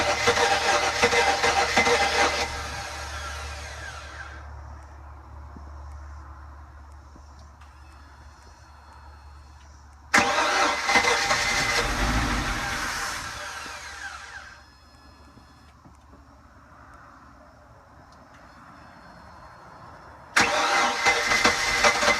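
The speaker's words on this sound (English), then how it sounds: "And I'm gonna fire this motor up." A 2001 Regal 3260 boat's engine, unused for about three years, is cranked three times. Each time it turns over loudly with a rough, fluttering roar that fades to a softer idle-like rumble before the next attempt.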